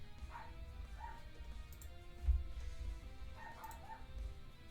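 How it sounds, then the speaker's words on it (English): Faint barking from a dog in another part of a home, two soft pairs of distant barks under a constant low hum with a brief thump. "my dog is barking"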